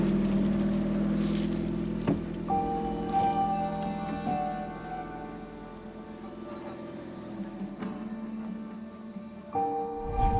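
Boats pass on the water near Coron Island in the Philippines, a steady low motor drone with tonal engine hums rising and fading over a breezy outdoor background.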